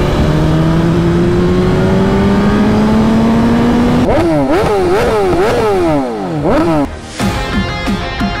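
BMW S1000 RR sport motorcycle engine, loud and close, holds a steady rising drone and then snaps into a rapid series of sharp throttle blips, the pitch swooping up and down repeatedly before easing off.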